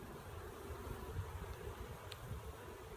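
A honeybee swarm hums steadily around a hive where returning bees cluster below it, a continuous near buzz of many wings with a faint wind-like hiss and no talk.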